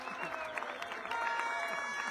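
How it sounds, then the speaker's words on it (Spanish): Clapping from the crowd at an awards ceremony for the 2022 Vuelta a Guatemala cycling race, a moderate, continuous patter with voices and other sound layered on top. "Un aplauso para Bernardo, por favor."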